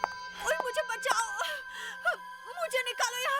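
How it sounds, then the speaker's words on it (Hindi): A girl cries and whimpers in distress, with wavering moans and gasping sobs repeating close by over a steady electrical hum, as though calling out for help while trapped. "लड़की के रोने की आवाज?"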